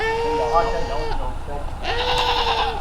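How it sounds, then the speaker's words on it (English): Goats on a film set bleat loudly and close by, two long wavering calls with a short pause between them. "Yes, there were goats on set."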